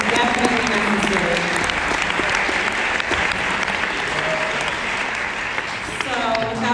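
A large audience at a Chicago jazz event applauds with dense, sustained clapping and a few cheers, while voices talk over it.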